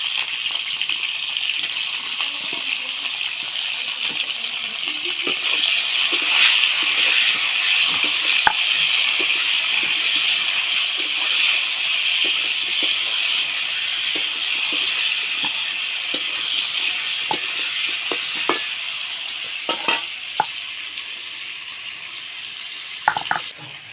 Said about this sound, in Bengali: এবার ঝিঙেটা আমি দিয়ে দেবো কড়াইতে